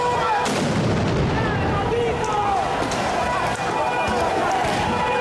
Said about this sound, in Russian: Они выпустили по зданию петарды и дымовые гранаты